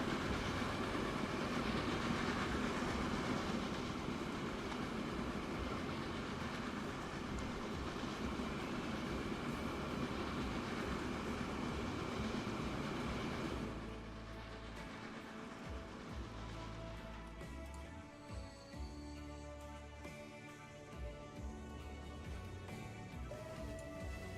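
Aging 30-year-old train running in the Transport Fever game, a loud steady rumble with clickety-clack rolling for about fourteen seconds, then dropping to a quieter hum with scattered tonal clanks.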